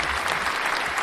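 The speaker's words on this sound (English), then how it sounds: "round of applause, Carter" A round of applause on a talk show, a dense, steady wash of many hands clapping at close range throughout the brief moment, with no voices over it.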